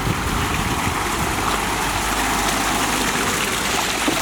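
Water running steadily at the Wanaka Natural Spring as bottles are refilled, a constant splashing rush heard up close with no voices.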